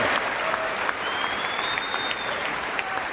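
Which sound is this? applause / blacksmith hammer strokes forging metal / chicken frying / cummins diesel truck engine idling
applause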